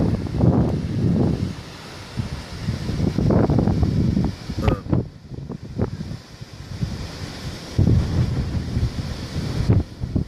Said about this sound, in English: Don't know whether you can actually hear the wind.